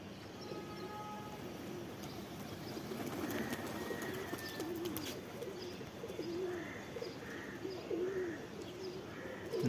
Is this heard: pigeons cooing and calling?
yes